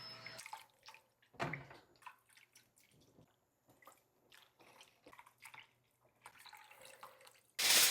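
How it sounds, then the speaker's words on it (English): Chicken stock is poured into a baking dish, faint trickling and dripping liquid in small irregular bursts, close and quiet, ending in a louder splash. "I pour in 3 cups of chicken stock"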